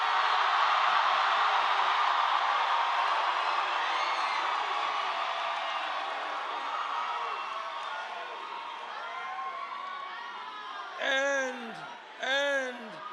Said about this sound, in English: And this is a loud crowd.